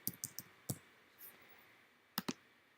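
Computer keyboard typing, a handful of sparse, faint clicks spread over a few seconds in a quiet room.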